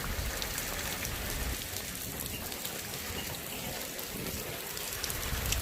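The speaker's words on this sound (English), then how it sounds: "As it's starting to rain heavier." Heavy rain falling during Tropical Storm Cristobal, a dense, constant hiss of drops on surfaces that stays steady and fairly loud from start to finish, with no voices.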